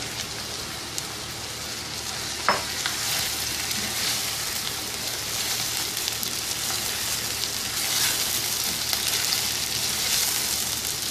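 Chicken pieces fry in oil in a karahi, producing a steady, crackling sizzle like rain on a surface, with an occasional sharp pop or clink partway through.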